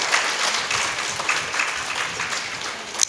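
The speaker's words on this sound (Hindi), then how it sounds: "तालियों से स्वागत करिए ना, जोरदार तालियों से" A crowd at a Hindu religious discourse clapping continuously, a dense, even wash of applause that holds steady for a few seconds without voices rising above it.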